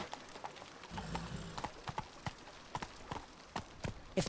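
A horse's hooves clip-clop in a steady trotting rhythm in the video game The Witcher 3, sharp close hoof strikes over a quiet background.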